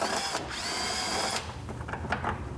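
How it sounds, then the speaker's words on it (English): A power screwdriver removing a hidden screw on a modern Vespa scooter, a steady high whine lasting about a second, then a short second burst and a few light clicks. "There's this hidden screw right there. Let's go ahead and remove that."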